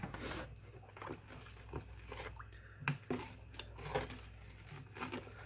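Close, moist chewing of a sugary dish with crunchy sugar at the bottom, irregular crunches and soft squishes, steady and unhurried with no talking.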